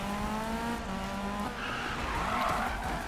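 A Volvo 242 driven at high speed in the Need For Speed racing game, its engine droning steadily with harmonic tones before tires squeal and skid loudly in the second half, with no talking.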